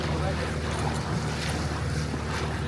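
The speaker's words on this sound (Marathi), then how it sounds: "इथून मग आत जाणार पाणी आणि तिकडे ते बाहेर पडतं पाणी" Sea water surges and churns through a narrow rock channel on the coast near Nivati lighthouse in Malvan, a steady, loud, rushing wash mixed with wind buffeting the microphone throughout.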